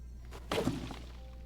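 A single sharp chopping thunk of a slashing weapon felling a tree in The Legend of Zelda: Tears of the Kingdom, a short crack with a brief woody crash after it, fairly quiet over a low hum.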